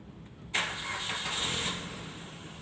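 A car engine cranks and catches at about half a second, then settles into a steady, fairly loud idle for the rest of the clip.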